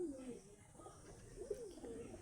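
Caged pigeons of several fancy breeds coo softly at dusk, a low, wavering, repeated coo that is quiet and close with a little background murmur.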